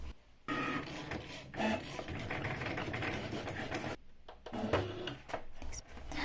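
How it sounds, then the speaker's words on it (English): A craft cutting machine cuts a smart iron-on sheet with a steady mechanical whirring and rubbing, broken by a couple of short pauses as the blade carriage moves. No one speaks over it. "the machine itself detects the quantity needed, and when it's ready, flashing the play button"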